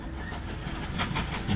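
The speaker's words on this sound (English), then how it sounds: "there's a beautiful number 3 train" Train from the Mashinky video game running along its track, a soft continuous rolling and clattering rumble with faint rhythmic clicks, steady and moderately quiet.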